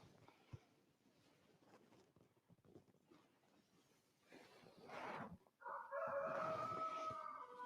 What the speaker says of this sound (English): That's Goldilocks, my rooster.